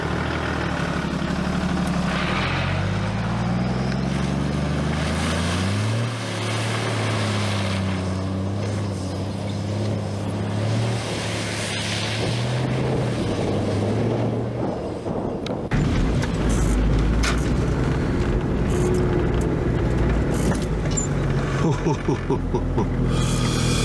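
A vehicle drives along a damp, muddy bush track on the way to Israelite Bay in Western Australia, its engine droning steadily near and loud throughout with heavier rumble and rattling in the last stretch; people talk over it at first.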